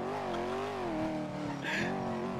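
Car driving off in GTA V, a steady mid-level engine drone with a slight rise in pitch and a brief tire hiss near the end, under talk.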